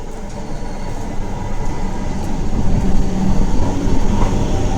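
A MEMU passenger train (Rajahmundry to Visakhapatnam) rumbles in close and grows louder, its wheels clattering steadily with low droning machinery underneath.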